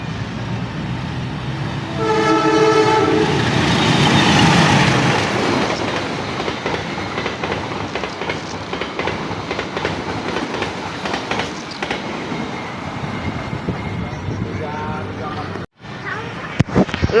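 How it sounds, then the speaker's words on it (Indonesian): A CC 203 diesel locomotive hauls the Parsel Tengah train past, opening with a loud horn blast, then a steady rumbling roll with rhythmic wheel clatter over rail joints, heard close by. "Lokomotif CC 203 kereta api Parsel Tengah."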